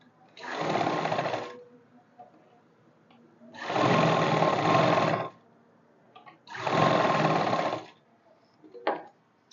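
An electric sewing machine stitching pleats on a simple kurti, running in three distinct bursts of about one to one and a half seconds each with quiet gaps between, close and clear.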